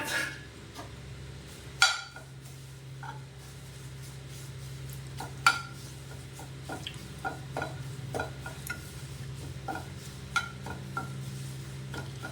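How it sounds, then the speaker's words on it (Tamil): Curry leaves, a generous handful, frying in a pan with scattered clinks and scrapes of a utensil stirring against metal over a low steady background hum, no voices. "நான் கருவேப்பிலை வந்து ஒரு பிடிச்சபடி போடுறேன். நல்லா வறுக்கணும்."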